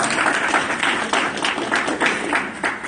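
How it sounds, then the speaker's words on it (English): An audience applauds together in a hall, a dense, continuous burst of clapping that stays loud and even from start to finish, with no voice rising above it. "Let's give Brother Brandon a round of applause"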